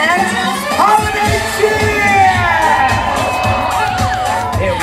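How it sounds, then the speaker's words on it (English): A large audience at a holiday stage show at a theme park cheers and shouts loudly on cue, with children's shrieks and whoops rising over a dense, steady wall of crowd noise. "Almost time for that big crowd reaction."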